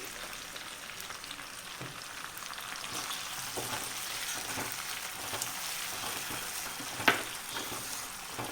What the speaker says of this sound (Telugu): ఓకే అండి ఆయిల్ హీట్ ఎక్కింది ఇప్పుడు నేను రొయ్యలు ఫ్రై చేసుకుంటున్నా అండి ఎండు రొయ్యలు